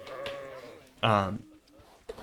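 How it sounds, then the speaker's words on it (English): A bighorn sheep in the video game Planet Zoo lets out one loud, drawn-out bleat, with quieter ambient sounds before and a brief call after. "That is the bighorn sheep"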